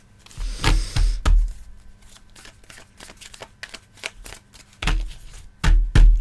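Close, crisp shuffling of tarot cards comes in several bursts of riffling and slapping, with quieter soft handling between them.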